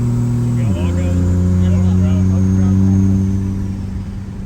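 Loud Cummins 6.7 diesel engine in a truck swapped from a 5.9, droning steadily as it pulls through the gears, with a pitch shift early on and a sustained deep hum that eases slightly toward the end.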